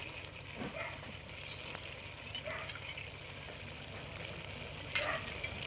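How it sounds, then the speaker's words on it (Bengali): Raw chickpeas tipped into a pan of boiled taro greens, giving a soft steady sizzle with faint stirring scrapes and a couple of brief clatters near the start and end. "এবার আমি দিয়ে দেবো ছোলাগুলো।"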